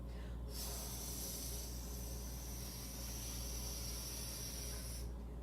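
Steady, breathy hiss of deep breathing during a Pilates exercise, one long sustained exhalation-like rush that is close and fairly quiet, with no talking.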